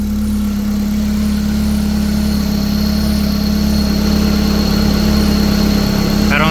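A car engine idles steadily while warming up, a loud, constant near rumble with a strong low hum and no talk, the car being prepped for drifting with a bigger intercooler fitted.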